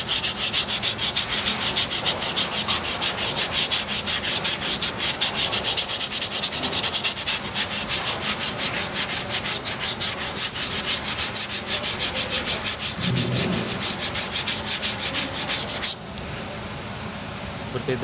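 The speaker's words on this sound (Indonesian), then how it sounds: "Kemudian baru kampasnya kita amplas guys ya." Continuous rapid back-and-forth sanding of a brake lining, a harsh gritty scrape on a hard surface up close, stopping abruptly near the end and leaving quiet background.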